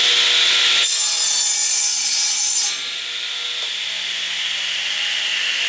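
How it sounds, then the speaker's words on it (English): A table saw crosscuts a scrap of wood on a crosscut sled, trimming off a rough end: a steady, loud whining cut for about two seconds, then the blade spins on alone after the piece comes free. "you can always use a crosscut sled on your table saw"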